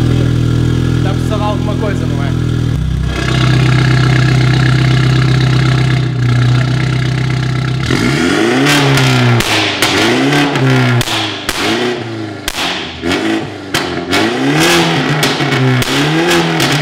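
A BMW 430i in a racing video game idles steadily, then revs hard in a rapid series of loud throttle blips with crackling exhaust pops.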